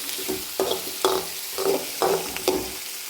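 Onions sautéing in a pan, sizzling steadily while a spoon stirs them in regular strokes about every half second, each stroke bringing a brief scraping swell, close and fairly loud with no talking.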